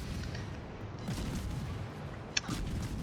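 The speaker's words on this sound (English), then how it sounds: "I keep going with my machine guns." Rapid-fire guns of the Friesland destroyer in World of Warships keep up a dense, continuous crackling barrage over a rumbling naval battle, with one sharp, close bang cutting through near the end; no one speaks.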